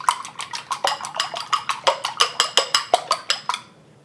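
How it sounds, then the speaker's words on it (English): Cracked eggs being lightly beaten in a bowl, a brisk steady run of about twenty utensil clicks against the bowl's side, close and clear, stopping abruptly at the end. "I'm just going to crack into a bowl. I'm just gonna lightly beat these."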